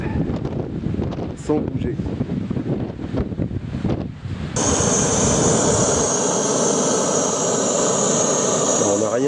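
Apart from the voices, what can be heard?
strong wind on a Jura mountain ridge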